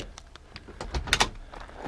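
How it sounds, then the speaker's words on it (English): The power door locks of a 1967 Mercury Cougar XR7 actuate with a few quick mechanical clunks and thumps, close and clear against a quiet background. "door locks"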